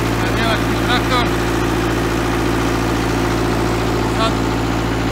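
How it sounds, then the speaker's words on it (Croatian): A German tractor's engine idles with a steady low rumble and vibration throughout, while people talk intermittently over it. "Nemački traktor."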